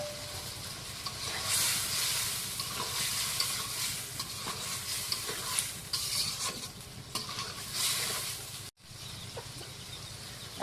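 Goat tripe tipped into a spiced masala sizzles loudly and steadily in the pan, with repeated scraping stirs over the hiss and a brief cut near the end before the frying resumes.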